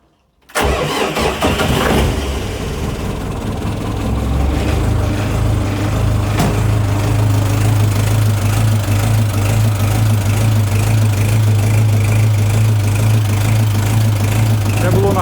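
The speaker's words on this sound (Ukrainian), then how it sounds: "Вижав щеплення на холостих, заводю і дивимося на трубу." A Lovol 354 tractor diesel starts from cold at about -5 degrees without the glow plug: an abrupt crank catches at once, then settles into a loud steady knocking idle.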